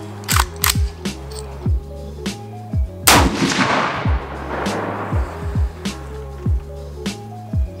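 A Radical Firearms 7.5 inch AR pistol firing outdoors with a failing bolt carrier group, giving sharp, loud single shots at irregular intervals, including one big blast with a long decaying echo, over steady background tones.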